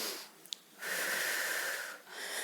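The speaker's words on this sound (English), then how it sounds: "exhale, nice and slow" A slow, controlled exhale during an upper-body strength workout, a breathy, slightly wheezy rush of air lasting over a second, close and clear, preceded by a short intake and followed by another breath, with no talking.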